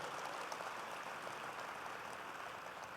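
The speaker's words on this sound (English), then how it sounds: "Round of applause and thanks to our state delegation" An audience at a mayor's State of the City address applauds. The clapping is steady and evenly textured, heard faint and somewhat distant, and runs without a break for the whole stretch.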